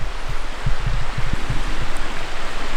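A river flows near a campsite at Sheepyard Flat at night, a steady broad rush of water with faint low crackles and thumps close by, no voices.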